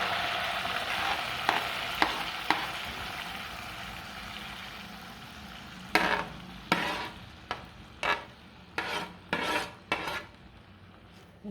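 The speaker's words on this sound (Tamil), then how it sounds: "கட் பண்ணி வச்சுருக்கிற நார்த்தங்காய் இதை நம்ம வந்து இந்த எண்ணெயில் சேர்த்துக்கலாம்" Cut citron (narthangai) fries in oil on a low-heat stove for pickle, a continuous bright sizzle under repeated metal spoon stirs and scrapes that come in a regular rhythm in the second half.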